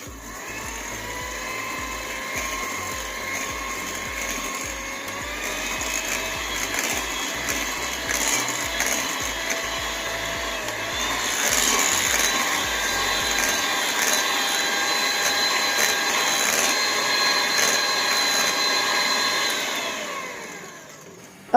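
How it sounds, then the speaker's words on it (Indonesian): An electric hand mixer beats an egg into chocolate chip cookie dough, a steady whirring motor drone with harmonic whine that runs continuously, rises in pitch and loudness midway, then stops abruptly near the end. "Kemudian saya masukkan 1 butir telur dan saya mixer kembali hingga tercampur."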